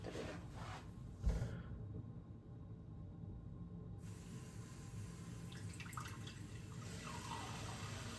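Ice-cold water is measured and poured for puff pastry dough, quiet trickling and splashing in faint, irregular bursts with a brief lull between them, and no talking.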